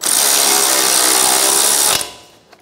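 A power tool tightens the brake hose bracket bolt on a 2012-2016 Subaru Impreza with a loud, steady whirring drive that runs for about two seconds and then cuts off abruptly, followed by a faint clink.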